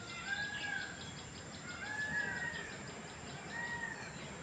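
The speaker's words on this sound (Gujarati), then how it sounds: "અહીંયા મોરના ટવકાર આખો દિવસ સંભાળણા કરે છે" Peacocks call at a temple set in natural surroundings at Gangeshwar Mahadev in Kamrej, Surat, giving three spaced, drawn-out cries over a steady background hiss.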